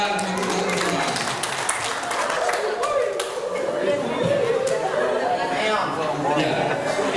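Audience at an Indonesian marriage seminar claps steadily throughout, a dense continuous applause mixed with crowd chatter and some talking voices.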